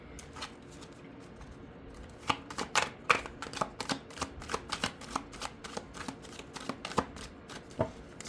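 A deck of tarot cards is shuffled close up, with a rapid flurry of crisp riffling clicks and slaps that comes in uneven bursts over a quiet background.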